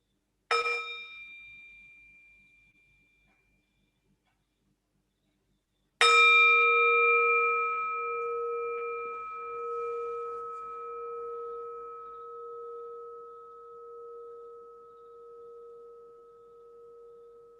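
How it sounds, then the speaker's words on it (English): A meditation bell is struck twice during a dharma talk, each strike a clear ding followed by a long, pure ringing tone that slowly fades in a quiet room. "Perhaps we can enjoy a sound of the bell."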